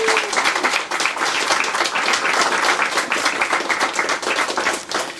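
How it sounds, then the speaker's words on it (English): An audience at the grand opening of an affordable housing development breaks into dense, continuous applause, a steady wash of many hands clapping with no speech over it. "Let's give him a big round of applause."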